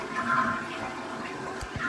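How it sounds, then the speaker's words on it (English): A toilet flushes close by in a quiet room, with a brief rush and gurgle of draining water. "start flushing down the toilet"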